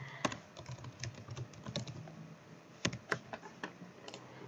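Typing on a computer keyboard: irregular bursts of crisp key clicks close up, in a quiet room with no talking.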